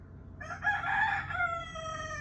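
A rooster crows once outdoors at moderate distance, its drawn-out call rising and then trailing off over a low background hum.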